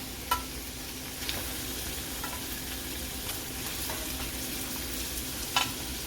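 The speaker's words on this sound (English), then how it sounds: "I'm going to go ahead and start putting these in the skillet here, just like so." Browned meatballs sizzle in a hot skillet, a steady dense crackling hiss with occasional sharper pops and stirring clinks, close and continuous with no talk.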